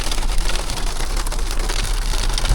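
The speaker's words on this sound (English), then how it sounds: "we got a little hail going on up here on the trail" Hail falling on a mountain trail near a campsite, a dense, steady patter of small hard impacts on surfaces all around, loud and continuous with no talking.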